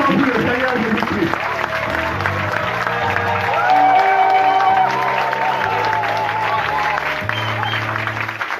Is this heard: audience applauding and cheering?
yes